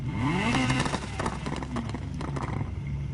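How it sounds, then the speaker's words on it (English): Front-wheel-drive Honda Civic Type R with a six-speed swap revving hard, engine pitch rising and falling through sweeps with a rough, roaring note that stays loud and close throughout. "Oh yeah, the Civic Type R. This, not very fast, but does sound incredible."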